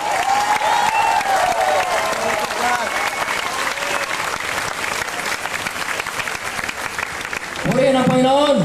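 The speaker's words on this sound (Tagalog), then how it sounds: "Patunayan natin, sa palakpak pa lang" A church congregation applauds loudly during a worship service, with sustained dense clapping and crowd noise under a preacher's voice, and a shouted voice rising at the end.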